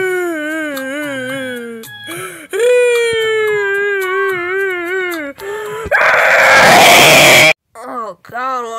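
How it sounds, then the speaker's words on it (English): High wailing cries and screams in a cartoonish voice rise and fall in long, repeated wavering moans, with a loud noisy burst near the end and brief sobbing whimpers after. "what's all that screaming and crying?"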